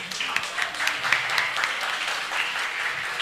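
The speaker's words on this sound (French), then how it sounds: "On les applaudit, s'il vous plaît." A crowd applauds steadily at a school competition, a dense patter of many hands clapping at moderate volume throughout.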